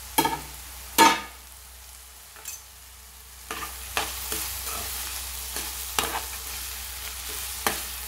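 Dried fish and egg curry with salt fries in a pan, a constant close sizzle broken by scraping stirs and a few louder knocks of the spoon against the pan.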